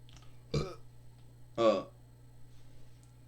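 Two short, throaty burps about a second apart, close and fairly loud against a quiet background hum.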